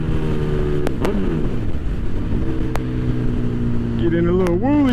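A motorcycle engine revs up and down during wheelie practice, close and loud, with rising and falling pitch sweeps and a sharp climb near the end, under faint talk.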